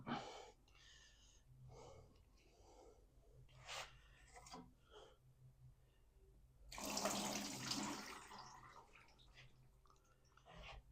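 Fluid splashes out as a Chevy small-block engine is flipped over, first as faint trickles and drips, then as a brief louder gush of pouring liquid, then a few more drips.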